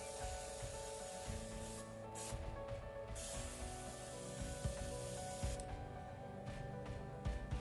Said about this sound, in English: Each of the piers are primed using Vallejo white primer, which is applied by airbrush.